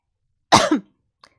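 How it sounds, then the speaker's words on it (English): A single sharp cough, close and fairly loud, followed by a brief faint sound and silence. "I keep coughing"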